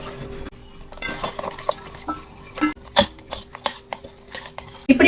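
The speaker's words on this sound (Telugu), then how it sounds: "ఇప్పుడు ఈ తిరగమాతని మజ్జిగ పులుసులో పోసేసుకుందాం" Hot tempering of mustard seeds, cumin, dried red chillies and curry leaves poured into buttermilk chicken curry, heard as close clinks of a metal pan and ladle with brief splashy bursts and clatter.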